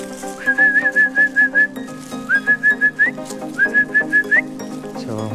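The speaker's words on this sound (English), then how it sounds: "So I'm whistling, here they come." A person whistles to call puppies in for recall training, three rising whistle phrases each made of rapid repeated notes, loud and close, with soft background noise between.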